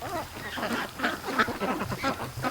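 Ducks and a goose in a farm pen quacking and honking together, a busy, overlapping chorus of nasal calls close by, fairly loud and continuous, with a person speaking briefly among them.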